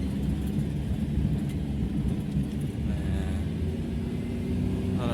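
Daihatsu Espass car creeping slowly uphill in first gear, a low, steady engine drone and rumble heard from inside the cabin, continuous throughout.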